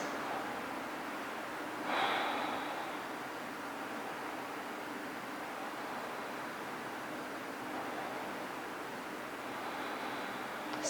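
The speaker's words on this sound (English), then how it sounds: "Let's take 3 deep breaths." Deep breaths are drawn during a vinyasa yoga session in triangle pose: a faint breath early on and another near the end, over a quiet, steady hiss, with no talking.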